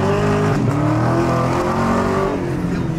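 Car engine revving hard in sport mode, a loud sustained acceleration with rising and shifting engine tone, close and continuous throughout.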